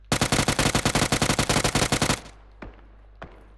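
A rapid burst of about twenty loud, evenly spaced gunshots in PUBG: Battlegrounds, cut off after two seconds, followed by two fainter single shots in the distance.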